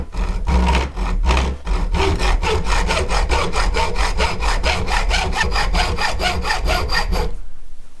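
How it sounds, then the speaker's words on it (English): A hacksaw cuts through copper held tightly in place, making a close, loud run of rapid, even back-and-forth rasping strokes for about seven seconds before stopping. "when you put your hacksaw blade in is have the teeth aiming back towards you"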